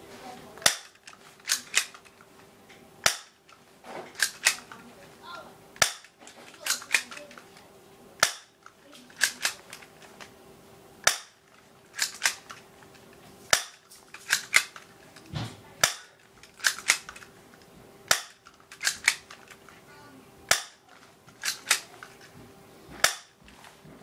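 Airsoft pistol fired at a target 30 feet away: a long series of sharp, snappy cracks at irregular intervals, about twenty shots, close to the listener with quiet between them.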